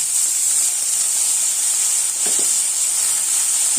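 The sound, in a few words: garlic and shallots sautéing in a pan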